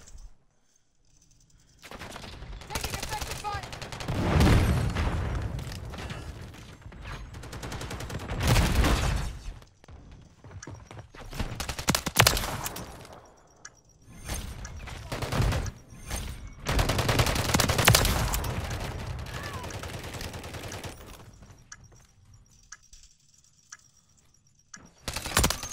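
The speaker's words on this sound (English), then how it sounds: "that's a sentry gun" A sentry gun in Call of Duty: Modern Warfare III fires long, loud bursts of rapid automatic gunfire that come in waves with brief pauses between them, close and dominant, with little else heard.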